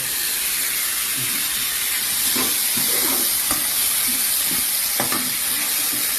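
Pork stir-fries in a hot wok with a loud, continuous sizzling hiss, broken by occasional scrapes and knocks of stirring. No one speaks.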